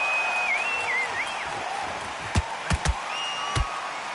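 Boxing arena crowd in the Undisputed video game, a steady roar under whistles and rising calls, punctuated near the end by a few sharp, loud slaps or thuds.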